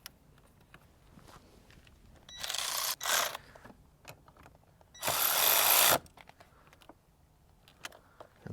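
A power tool whirs in two short bursts while tightening a 12mm nut onto a stud during a Toyota LandCruiser 300 Series battery install, loud and close against quiet clicks and handling noises.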